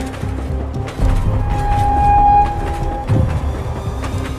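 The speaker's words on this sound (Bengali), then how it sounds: "একটা ট্রেনের আওয়াজ শোনা যাচ্ছে।" A train rumbles and clatters past at close range over a bridge, with a steady metallic whine rising and fading over the heavy rolling noise.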